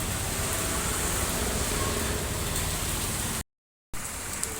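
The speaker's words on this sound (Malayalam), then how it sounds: "അതുപോലെ പുറത്ത് നല്ല മഴയാണ്." Heavy rain falls outside, a steady, dense hiss that stays loud and even throughout, briefly cutting to silence near the end before resuming.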